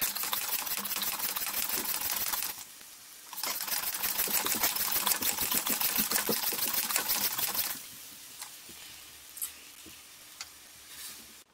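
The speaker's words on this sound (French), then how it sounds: "il s'agit plutôt de pulvériser, de vaporiser de l'eau" A spray bottle mists water over tomato seed trays in two long, steady hissing bursts with a brief pause between them, then fades to faint, sparse clicks nearby.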